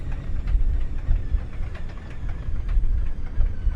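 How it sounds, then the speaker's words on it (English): The engine starter of a Lockheed L049 Constellation in the Prepar3D flight simulator cranks steadily during a cold polar start, a continuous low rumbling drone with rapid knocking pulses that never catches. "engage starter, and we're gonna put ignition on. We'll see if that catch."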